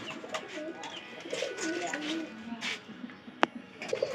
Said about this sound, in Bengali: এই কর্নারের কবুতরের কি অবস্থা